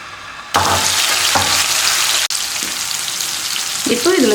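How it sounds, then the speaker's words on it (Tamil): Chicken tikka pieces dropped onto a hot tawa pan, bursting into a loud, close, continuous sizzle and frying hiss that swells as more pieces go in, with faint voice near the end. "சிக்கன் பீஸ்லாம் சேர்த்துக்கலாம்."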